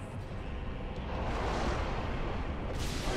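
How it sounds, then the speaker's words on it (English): An explosion erupts in Dark Souls during the Four Kings fight, a loud, sustained roaring blast of broadband rumble lasting about three seconds, with no voices. "That's an explosion again"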